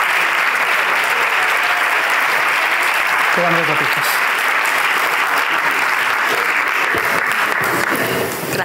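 A crowd at an awards ceremony applauding the women honoured there, sustained loud clapping throughout, with a voice briefly speaking over it partway through.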